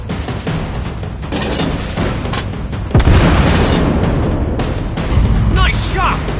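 Heavy naval shell impacts boom loudly against an enemy warship in World of Warships, a big blast near the three-second mark over continuous battle noise, with game voice callouts and talk throughout.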